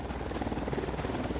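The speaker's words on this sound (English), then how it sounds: "Another frickin' Unidad chopper shows up." An enemy Unidad helicopter in the video game Ghost Recon Wildlands gives off a steady, low rotor thrum with a fast chopping pulse, continuous and moderately loud, with no talking.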